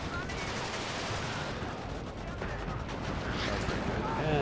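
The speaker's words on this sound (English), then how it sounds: "And then big artillery strike." Artillery strike in the Warno strategy game: a steady, rumbling barrage of distant blasts and crackling impacts that swells toward the end, with some battle noise layered throughout.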